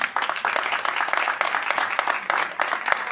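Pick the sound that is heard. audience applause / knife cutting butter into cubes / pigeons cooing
audience applause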